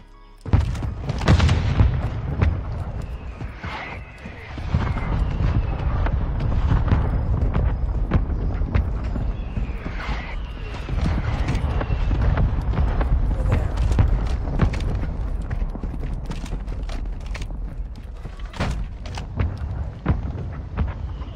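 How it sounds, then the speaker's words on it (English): Mortar strike explosions in Call of Duty: Warzone 2.0, a run of deep booming blasts and rumbling impacts rolling on continuously, loud and close, with scattered sharper cracks mixed in. "Hostile mortar strike incoming!"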